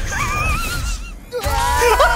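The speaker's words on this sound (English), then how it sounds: "I fucking love that scream." A screaming, warbling cry from the video game Ratchet & Clank: Rift Apart, with wavering tones breaking off and returning in short bursts over game background sound.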